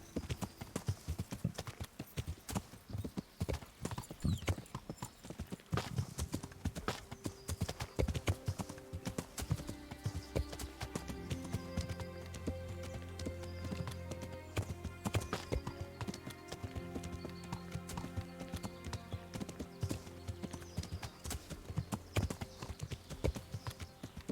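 Horse hooves clip-clop in a steady walking rhythm in Kingdom Come: Deliverance, fairly faint, with music rising in the middle.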